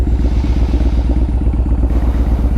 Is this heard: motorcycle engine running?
yes